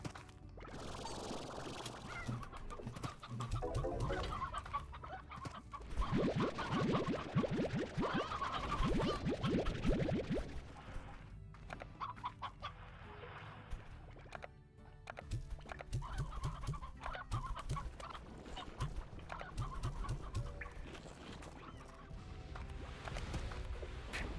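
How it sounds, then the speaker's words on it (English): Hens cluck and scratch in a farming video game, with repeated fowl calls and clucks under a busy, continuous game soundscape at moderate level. "Let me put these hens in."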